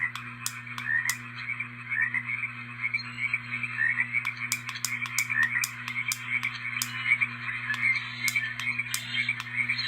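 An Elayce portable baby noise machine at full volume plays a steady nature soundscape of rapid frog croaks over a constant low electronic hum. It is loud and continuous, with no talking.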